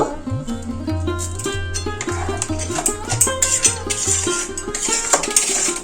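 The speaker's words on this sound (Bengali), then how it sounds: "মশলাটা এবার কষিয়ে নেব" Spice paste being stirred and fried in a pan for a Bengali fish curry, with repeated metal clinks and scrapes of a spoon against cookware over a steady background, fairly close.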